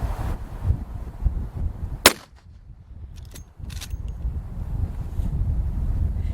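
A Marlin .357 Magnum lever-action rifle fires a single sharp shot outdoors, followed a second later by fainter cracks or distant target impacts, with steady wind rumble across the microphone throughout.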